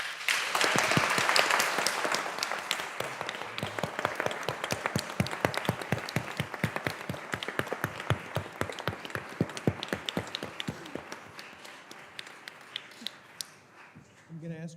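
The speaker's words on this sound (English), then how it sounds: "Let's give them a round of applause." A courtroom-style competition audience gives a round of applause, loud and dense at first, then thinning into scattered individual claps that slowly fade over about fifteen seconds.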